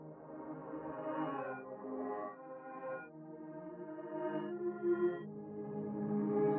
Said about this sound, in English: what I did is I just reversed it and I brought the pitch all the way down 12 semitone thing